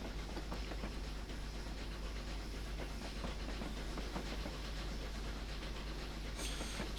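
The Flying Scotsman steam locomotive in the Train Simulator game, on Western Lines of Scotland, runs with a steady dense rumble and hiss, faint rhythmic clatter, and a brief higher hiss near the end.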